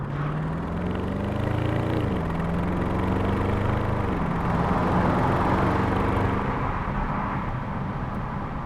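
A 2014 Porsche Cayenne Turbo with a 4.8 V8 pulls away, its engine note climbing steadily, dropping at two gear changes and rising again, loud and close with no talk over it.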